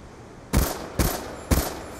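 Three evenly spaced, sharp single gunshots from a weapon fitted with an FMJ attachment in Black Ops 2, each loud report ending in a short decay.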